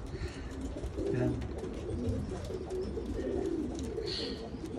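Racing pigeons cooing softly at close range, several low throaty coos in a loose rhythm over faint background noise.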